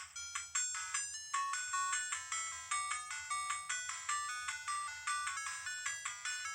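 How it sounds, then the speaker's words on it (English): Main menu music from a Tchibo retro mini games console, a quiet, bright chiptune melody of rapid plucky beeping notes in a steady, bouncy rhythm with nothing else over it. "This main menu music sounds kinda familiar"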